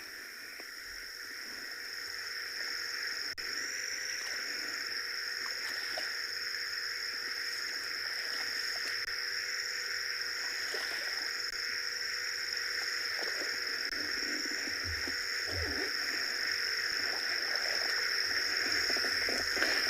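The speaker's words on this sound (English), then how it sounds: "Can you hear the frogs around the marsh?" Frogs calling loudly around a marsh on a rainy-season morning in South Africa form a dense, steady chorus of high, ringing trills that holds for the full stretch and grows slightly louder, with no talking.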